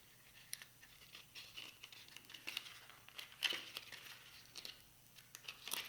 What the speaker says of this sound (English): a bit of barked ribbon, half a strip of U-glue, just peeling that off